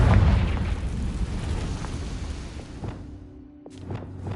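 Confringo spell explosion in Hogwarts Legacy: a loud booming blast at the start that rumbles and fades over a few seconds, followed by lighter clattering pops near the end.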